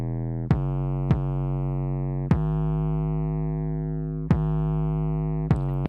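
A layered 808 bass patch called the Wow 808, a sustained harmonic bass tone with a slight bump, retriggered by five sharp attacks at irregular intervals, loud and alone.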